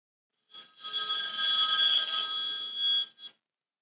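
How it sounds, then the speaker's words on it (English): Incoming phone call for Microsoft Office 365 sign-in verification rings once as a steady, bright electronic trill of about three seconds, close and alone. "You will receive a phone call verifying your new number."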